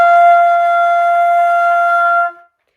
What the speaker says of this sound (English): Or you might be hearing a dark tone.